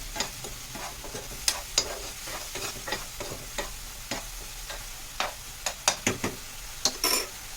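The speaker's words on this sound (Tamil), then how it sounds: "இதை நல்லா கிளறி ஒரு 2 நிமிஷம் அந்த எண்ணெயிலே வேகணும் இந்த மிளகா" Chili powder stirred in hot oil, a steady frying sizzle broken by frequent scraping strokes of a spoon against the pan, close and fairly quiet.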